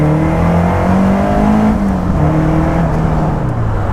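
Caterham 310R road-legal lightweight sports car accelerating hard, its engine a loud, continuous close-up roar with rising and shifting pitch through the whole stretch.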